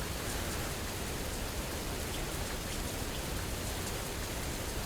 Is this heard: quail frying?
no